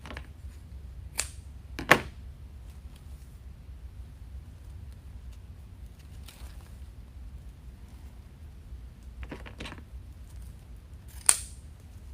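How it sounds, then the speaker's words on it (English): Scissors snip through a ribbon loop for a wreath in a few short, sharp cuts spaced apart, close up against a quiet room. "So I'm just gonna go ahead and cut that loop and make it into tails"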